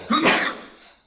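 A single sharp sneeze from an audience member during a mathematics lecture, close and fairly loud, bursting out and then fading into a soft breathy tail within about a second.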